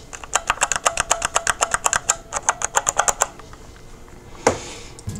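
Mechanical keyboard keys clack in a quick, rhythmic run of sharp close taps, then stop, followed by a single louder knock near the end.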